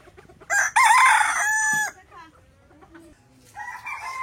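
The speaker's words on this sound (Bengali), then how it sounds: "ওই যে আরেকটা আছে দেশি মোরগ" A native country rooster crows loud and close at the Ilambazar livestock market. One full crow is followed by the start of a second after a short pause, with faint background noise.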